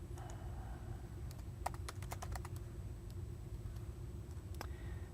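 Computer keyboard typing in bursts of quick clicks over a steady low hum, with a flurry of keystrokes in the middle and a few isolated taps before and after.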